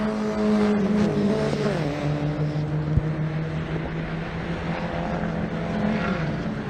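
Junior Saloon Car Championship racing cars roar around the track, a sustained engine drone rising and falling as cars pass, loud and fairly near, with a faint commentator voice underneath.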